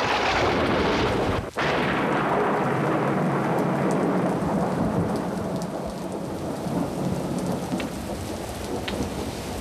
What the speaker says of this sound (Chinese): 这场雨来得这么猛，你看连前院都积水了